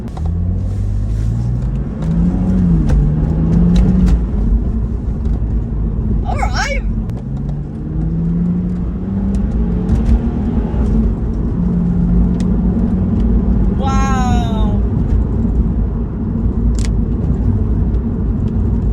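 A BMW Z4 Coupe engine drones and rises in pitch through several gear changes while driving, a loud steady rumble with someone briefly speaking over it.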